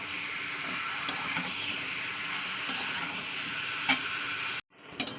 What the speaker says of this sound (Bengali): মশলার সঙ্গে চিকেনটাকে ভালো করে কষিয়ে নেব